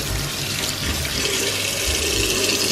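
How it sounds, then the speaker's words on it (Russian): Tap water running steadily into a sink, a continuous broadband rush that stays even and fairly loud from start to finish, with no voices. "теперь заливаю просто водой."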